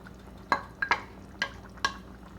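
Thick crab masala curry being stirred with a ground paste of poppy seeds, pepper, coriander and coconut, Andhra style: a series of soft wet scrapes and sloshes at an uneven rhythm, close up over a low steady hum.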